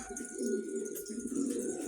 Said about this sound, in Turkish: Evet kuşlarımız, gariplerimiz bu şekilde.